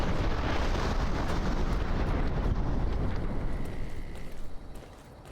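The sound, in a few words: explosion in Fallout: New Vegas video game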